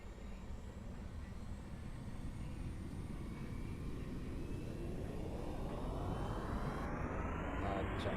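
A jet engine in a flight simulator game spools up from a steady low roar into a rising, climbing whine that grows louder over the last few seconds, with no talking.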